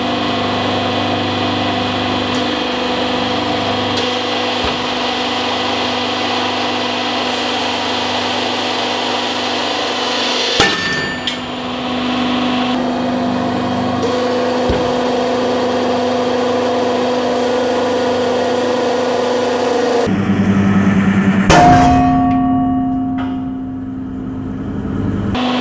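A 500-ton hydraulic press crushing an aluminum block gives a steady, loud mechanical drone. Abrupt jolts and shifts break in partway through and again near the end, and no one speaks.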